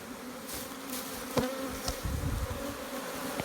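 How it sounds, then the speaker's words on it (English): A steady low buzzing hum of many honey bees around a nuc hive after being smoked and shaken, with a few faint taps and knocks over the drone. "You can see all the bees we shook there."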